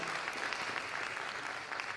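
Continuous audience clapping at a Triumph Over Trafficking gathering, a thick even wash of hands with no pauses and no voices on top.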